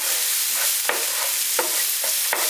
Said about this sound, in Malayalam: ഈ മഞ്ഞൾപ്പൊടിയുടെ ആ ഒരു പച്ചമണം ഒന്ന് മാറുന്ന വരെ നമുക്കൊന്ന് വഴറ്റിയെടുക്കണം.